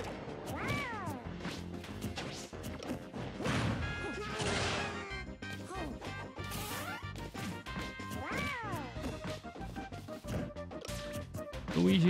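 Smash attacks in Super Smash Bros 4 on Wii U produce repeated crashing hits and whacks over busy game music and effects, with sustained loud impacts throughout.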